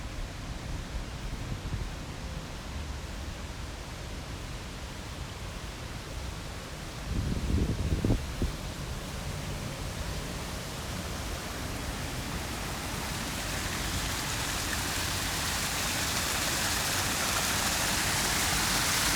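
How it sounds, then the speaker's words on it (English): A small backyard waterfall fountain pours in a steady, even wash of falling water. A brief louder splash sounds partway through, and the rush builds slightly brighter toward the end, with no voices. "see the little waterfall fountain we have"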